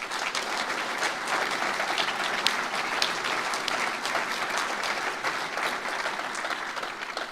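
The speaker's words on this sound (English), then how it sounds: "Round of applause now, please, ladies and gents." A large audience at a live UK event in Newcastle applauds, honouring a fire and rescue service team; steady, dense clapping fills the whole stretch without pause, loud and close, with no talk over it.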